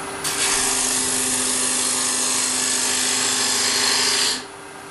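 A wood lathe turns a foot on a workpiece with a carbide-insert rougher, giving a steady close hissing scrape of the cutter on spinning wood over a faint motor hum, starting and stopping cleanly.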